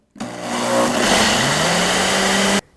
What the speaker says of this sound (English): let it blend for about a minute till it is smooth and creamy